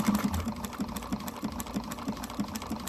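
A sewing machine backstitching along a seam, running steadily with a fast, regular mechanical chatter of needle strokes at close range, with no voices.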